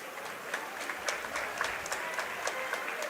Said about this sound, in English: And a round of applause here from the folks attending the Ed Price Classic.